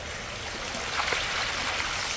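Water rushes steadily out of the waste line of a pool pump and sand filter, a continuous hissing gush at moderate loudness with faint splashy surges and no voices.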